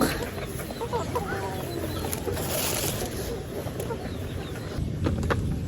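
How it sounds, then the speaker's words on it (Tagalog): Soft clucking from chickens at a fishpond over a steady wash of rain-like noise, with occasional faint flutters; the birds sound close but quiet. "Nagpapainom lang po si Bossing ng ano ah, ng manok"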